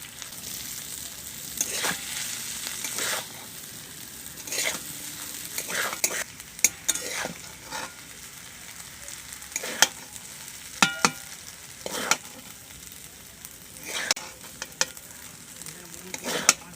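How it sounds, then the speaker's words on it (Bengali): Chicken chow mein gently stirred in a pan over a soft sizzle, with slow, irregular scrapes and light clinks of the spatula against the metal, close and fairly quiet. "আমি আস্তে আস্তে কিন্তু নেড়ে নেবো, একদম আস্তে আস্তে।"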